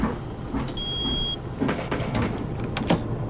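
Bus doors open in the OMSI 2 bus simulator with a steady pneumatic hiss and mechanical shuffle, over a continuous low engine rumble and a brief electronic tone.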